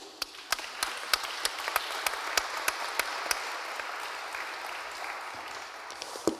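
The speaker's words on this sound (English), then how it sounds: "Give them all a round of applause" Applause from a conference audience at a Digital Europe 2024 panel session, a steady wash of clapping with a few sharp individual claps standing out, held at a moderate, fairly distant level for several seconds.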